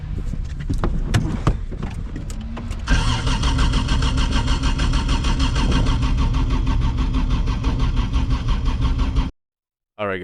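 A Toyota 2JZ-engined drift car at a track is cranked with short choppy starter bursts, then turns over into a loud, steady, close engine roar for several seconds before cutting out abruptly.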